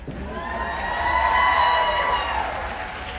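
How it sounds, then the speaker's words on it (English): A convention crowd applauds and cheers steadily at a Supernatural fan convention in New Jersey, a continuous wash of many clapping hands with a faint sustained tone running underneath. "Are you clapping because I didn't sing it?"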